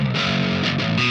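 An electric guitar plays a distorted crunch tone on the middle pickup position, a thick sustained chord ringing loudly and steadily with gritty overdrive and no talk.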